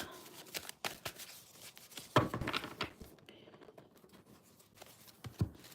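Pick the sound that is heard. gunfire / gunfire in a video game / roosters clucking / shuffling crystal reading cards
shuffling crystal reading cards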